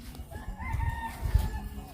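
A rooster crows once nearby, a short, fairly faint call with rising and falling tones over a low background rumble.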